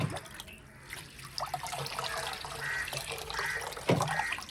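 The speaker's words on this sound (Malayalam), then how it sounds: "ഞാൻ ഈ പൂക്കാനുള്ള വളം ഇരട്ടി വെള്ളവും ചേർത്തിട്ട് ഞാൻ ഇതിൽ ഒഴിച്ചു കൊടുക്കുകയാണ്" Water mixed with orchid bloom fertilizer pours and splashes steadily into a plant pot for several seconds, a continuous bubbling trickle with a louder gurgle near the end.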